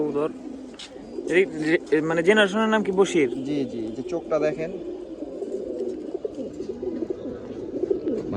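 Male breeder pigeons kept at a home loft coo in rolling, throaty phrases, loudest in the first half and close by, while people talk over them.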